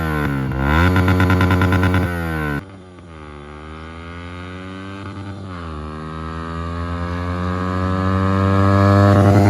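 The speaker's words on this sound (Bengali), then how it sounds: "গাইস এটাই হচ্ছে আমার বাইকের নর্মাল সাউন্ড।" A motorcycle engine running through its stock exhaust revs up sharply, drops back to a steady idle, then climbs slowly again, loud and close with no other sounds.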